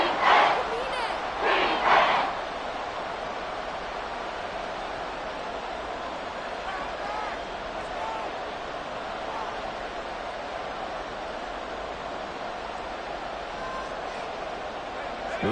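A large football stadium crowd at a Saints game roars continuously near the goal line, a broad wash of cheering that swells at the start before settling into a steady distant rumble.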